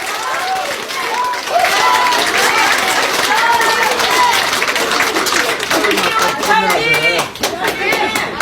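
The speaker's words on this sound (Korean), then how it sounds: "큰 박수로" A crowd at a Seoul press conference breaks into loud, sustained applause with cheering, while voices speak and chatter through it and louder clapping swells near the end.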